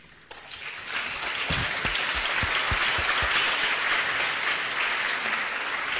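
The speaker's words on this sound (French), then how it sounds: "Franklin, on peut applaudir." At a school Armistice Day commemoration, an audience applauds a schoolboy. The clapping bursts in abruptly with a few distinct claps near the start, then settles into steady, even applause.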